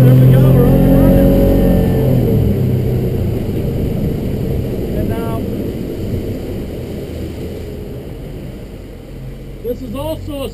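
A 2016 Defiance 220 Admiral EX motorboat engine hums and drones steadily on the water, fading slightly over time, with a voice briefly speaking near the end.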